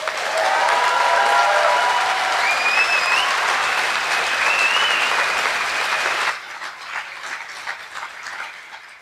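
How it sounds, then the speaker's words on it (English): A festival closing-ceremony crowd gives loud, dense applause for the power team, with a few cheers and whistles over it, then the clapping drops away into scattered, thinning claps. "So can we have a round of applause for the power team?"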